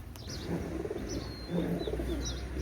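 Pigeons cooing in a loft of fancy breeds, several soft low throaty coos repeating in a steady rhythm at close range, with brief faint chirps above and no talk.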